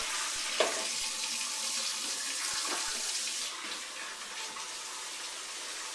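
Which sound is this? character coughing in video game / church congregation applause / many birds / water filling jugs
water filling jugs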